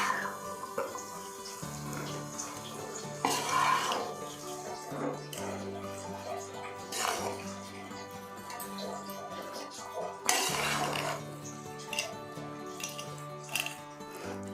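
Egg noodles are stirred in a cooking pot, with soft scraping and clinking strokes at irregular intervals over a low background hum.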